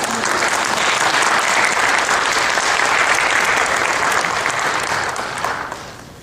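A church congregation at a Korean church in Toledo applauds to welcome and thank a missionary, a dense, steady clapping from the whole room that keeps going and starts to fade near the end.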